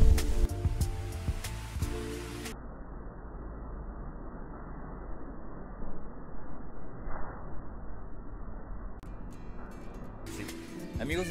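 Las Brisas waterfall in Cuetzalan, in the Sierra Norte of Puebla, gives a steady broadband rush of falling water that runs the whole time, with louder bursts of nearby sound at the start and end.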